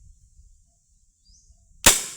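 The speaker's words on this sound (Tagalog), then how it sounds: "Kaya susubukan natin kung pumutok pa ba o hindi na." A single sharp gunshot from a blessed gun being test-fired, loud and close, bursting out after near-silence with a short decaying tail.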